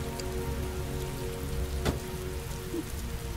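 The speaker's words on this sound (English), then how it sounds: "it sure rains a lot in this city, huh?" Steady rain falls throughout a scene in the video game Heavy Rain, a dense even patter with a brief louder splash near the middle, heard alone without talk.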